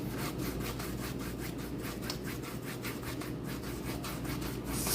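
Fan brush with leftover oil paint scrubbing across a canvas, a steady close rhythmic rubbing with repeated strokes throughout, no voices.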